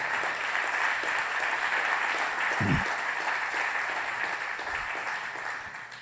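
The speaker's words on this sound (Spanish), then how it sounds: "Dale un aplauso al Señor por su palabra" A church congregation applauds together in praise, a dense, sustained wash of clapping filling the room evenly and tapering slightly at the end, with no voices on top.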